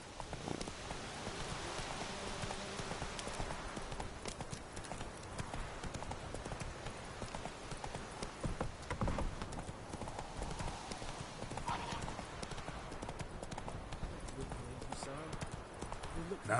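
Roach the horse from the Witcher 3 video game gallops with a steady, continuous clip-clop of hooves throughout, with voices speaking over the hoofbeats.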